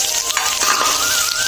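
Hot cooking oil in a wok sizzles and crackles steadily before onions go in for a prawn bhuna, a loud, close, continuous hiss with no voices.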